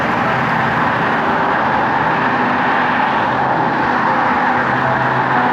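Steady, loud roar of cars speeding past on a Norwegian mountain road, a continuous broadband rush with no pauses.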